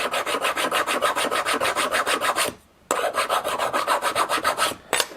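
Close, rhythmic rasping strokes of a stone rubbed over metal to knock down high spots, fast even passes broken by one short pause midway and another near the end.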